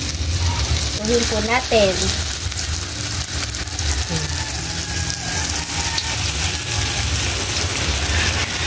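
Lumpia filled with Century Tuna fry in hot oil with a steady, even sizzle and crackle throughout, and someone speaks briefly over it near the start.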